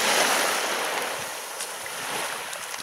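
Sea surf washes onto the shore during sea fishing on a beach in Valencia, Spain, a steady broadband rush that swells and eases, with some wind noise on the microphone.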